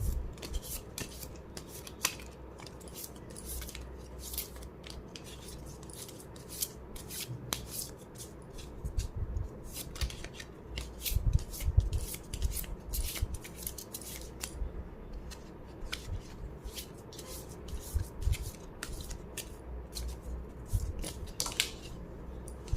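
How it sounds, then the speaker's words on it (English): Oracle cards being shuffled by hand, a steady run of soft, crisp card flicks and rubbing taps close by, continuing without a break and with no talking. "I'm gonna pull out a few oracle cards for you to see"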